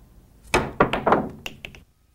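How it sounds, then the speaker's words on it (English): Cue ball jumping over the 3-ball in pool, pocketing the 1-ball and drawing back: a sharp cue strike followed by a run of close clacks and knocks of balls colliding and dropping into a pocket, then quiet. "I'm going to jump the 3-ball, pocket the 1-ball, and draw back for position for the corner pocket on the 2-ball"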